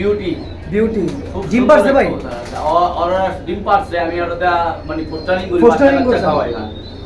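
Pigeons coo in repeated rounded calls at a pigeon seller's collection, several birds close by in a steady run of overlapping coos throughout.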